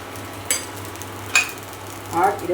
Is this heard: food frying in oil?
yes